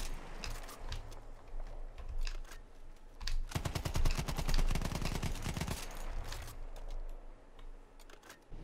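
A BAR M1918 Trench in Battlefield 1 fires one loud sustained automatic burst of rapid, evenly spaced shots lasting about two seconds, standing out against a quieter background hum.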